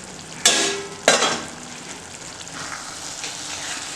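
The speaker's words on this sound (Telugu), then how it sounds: "ఇప్పుడు ఒకసారి మళ్ళీ బాగా కలిపేసుకుందాం." Paneer methi masala curry is stirred in a hot pan, with a continuous sizzle broken by two sharp scraping strokes of the spoon near the start, then a steady frying hiss.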